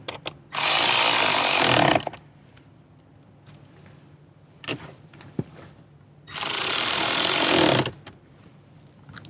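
Phillips head screws are driven into the cubby of a Toyota 4Runner in two loud, buzzing bursts of a couple of seconds each, separated by quieter handling noises.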